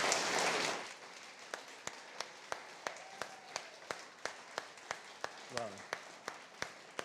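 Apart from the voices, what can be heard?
church congregation applauding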